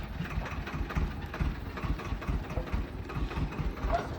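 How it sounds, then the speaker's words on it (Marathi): A heavy tractor engine rumbles steadily at close range as it drives out of an open cattle shed, its low chugging pulses running throughout with no voices over it. "हे बाहेर घेऊन चालला आता ट्रॅक्टर बाहेर"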